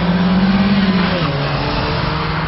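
A front-wheel-drive car doing a handbrake turn combined with a reverse flick, with a loud engine droning steadily and dropping in pitch partway through, a brief squeal over the drone, and no voices.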